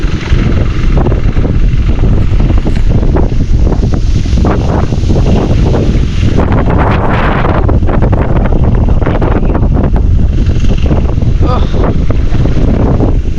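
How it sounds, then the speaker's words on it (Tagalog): Loud, steady wind roaring and buffeting a nearby microphone throughout at a fish pond by a river in Bulacan, with a faint voice briefly audible beneath the rumble. "Ang lakas ng hangin."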